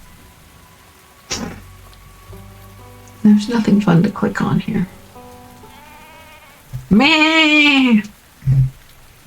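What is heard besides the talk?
rain in a video game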